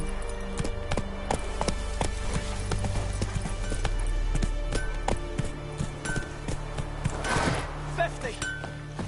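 A horse's hooves clip-clop in a quick galloping rhythm across a game world in The Witcher 3: Wild Hunt, loud and close, with a voice and a brief whinny-like burst partway through.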